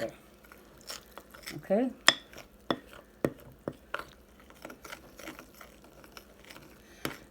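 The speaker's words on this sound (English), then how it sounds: "Now, I am going to stir this together." A spoon stirs sourdough starter, giving soft irregular scraping and knocking taps spread across the clip, close and fairly quiet, with a brief spoken word.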